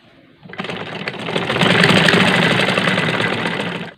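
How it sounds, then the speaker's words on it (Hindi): A hand-operated sewing machine stitches curtain fabric, starting after a brief quiet moment and then running steadily with a loud, fast mechanical chatter that carries on to the end. "बिजली नहीं है तो मैं हाथ का मशीन इस्तेमाल कर रहा हूँ।"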